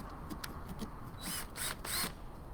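A power drill bores into a pumpkin during carving, giving a few short whirring bursts that grow longer and louder toward the end, close by with no talk.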